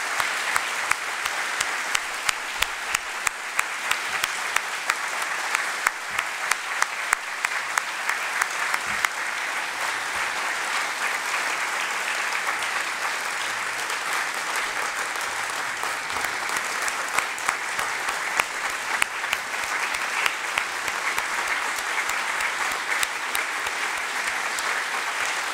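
An audience at a benefit dinner applauds for a long stretch, with dense, steady clapping from many hands that starts strong and stays full, with no speech.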